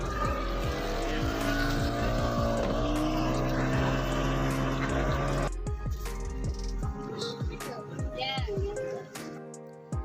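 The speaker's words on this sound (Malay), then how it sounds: "Selanjutnya bot melaju sedang menyusuri sungai ini" A passenger motorboat cruises along a river, its engine droning steadily with a loud hum for the first half before dropping to a quieter rumble. Voices talk over it in the background.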